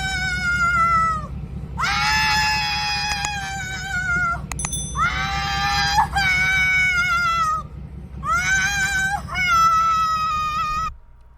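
A woman screams and wails loudly in long, strained bursts separated by brief gasps, sobbing cries over a steady low rumble.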